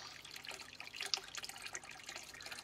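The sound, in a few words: water running out of a pond overflow pipe into a drain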